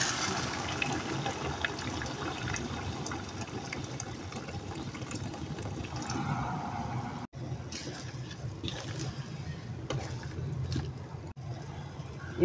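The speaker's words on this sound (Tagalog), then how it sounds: "Lagyan na natin ng tubig." Water poured into a pot of sautéed mung bean stew with jackfruit and pork, a steady splashing rush of liquid at close range that breaks into shorter bursts toward the end.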